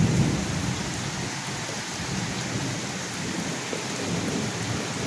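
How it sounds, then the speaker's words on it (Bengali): Heavy rain pours steadily outdoors in Duttapukur, with a low rumble of thunder rolling underneath, a dense continuous hiss throughout with no voices. "দেখো কিভাবে মেঘ ডাকছে।"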